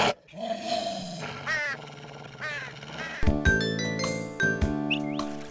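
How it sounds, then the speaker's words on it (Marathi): A cartoon dog growls and barks at a crow, with cawing calls mixed in among sharp animated sound effects and music, moderately loud. "तो कावळ्याला पाहून त्याच्या अंगावर भुंकायला लागतो."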